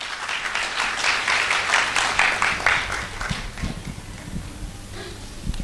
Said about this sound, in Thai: ปรบมือต้อนรับทรายด้วยกันนะครับ